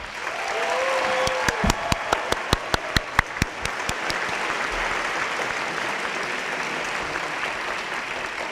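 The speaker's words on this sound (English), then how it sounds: "So let's give us another round of applause to all of us to celebrate the years we have spent together." A crowd at a high school graduation ceremony in New York gives a steady round of applause, with a series of sharper, louder individual claps standing out near the microphone early on before the applause continues evenly.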